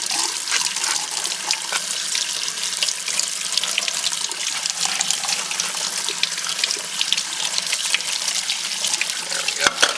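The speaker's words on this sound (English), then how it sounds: "we're going to take this over to the sink, and we're going to clean it up" Water runs steadily from a sink tap as a mango pit is rinsed under it, a loud, close, continuous hiss and splash with slight shifts as the pit moves through the stream.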